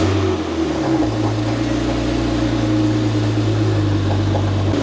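A Porsche 911 Turbo with a new intake sits running right after starting, its engine humming loudly and steadily up close with a smooth, even tone throughout.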